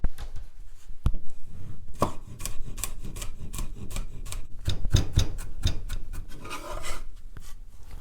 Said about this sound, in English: You can chop garlic as fine as you want